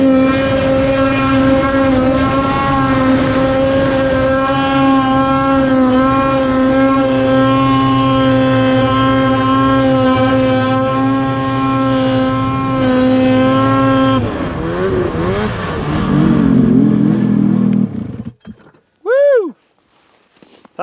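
Ski-Doo Summit E-Tec snowmobile climbing a snowy hill at full throttle, a loud steady two-stroke engine whine holding pitch for about fourteen seconds, then dropping off and fading to near silence.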